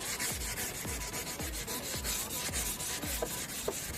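Rhythmic back-and-forth rasping of sandpaper rubbed hard against a yellowed, sun-damaged car headlight, about two strokes per second, close and continuous.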